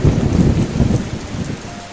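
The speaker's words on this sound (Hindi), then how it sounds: "शाम होते ही तेज हवाएं चलने लगती हैं और मूसलाधार बारिश शुरू हो जाती है।" Heavy, pounding rain driven by strong wind in a storm, a dense, loud roar of downpour with gusting surges that ease slightly toward the end.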